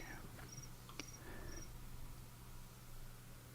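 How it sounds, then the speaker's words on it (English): A phone ringtone of chirping crickets plays faintly in a noisy pub, with a few short, high chirps over a low background hum. "Crickets. Yeah, that's my phone ring."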